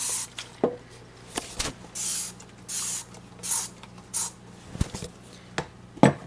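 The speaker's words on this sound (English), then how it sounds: "I'm going to go ahead and use some of this Dawn Power Wash and give it a good spray." Dawn Power Wash dish soap sprayed from a trigger bottle in a kitchen sink area while preparing pulled BBQ chicken, giving several short, close hissing bursts with small clicks and handling knocks between them.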